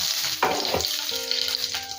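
Mustard seeds, cumin, dried red chillies and curry leaves crackling and sizzling in hot oil, a couple of sharp bursts of spitting early on, then a steady frying hiss with faint tonal hum.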